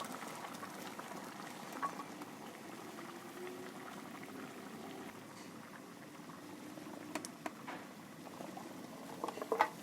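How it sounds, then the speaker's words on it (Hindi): Potato pieces simmer in masala in a cooking pot for aloo anday ka salan, giving a steady, soft bubbling and gentle patter throughout with a couple of faint clinks near the end and no talking. "यहाँ पर दोस्तों मैंने सारे आलू पोटैटो वगैरह डाल दिए हैं इसमें"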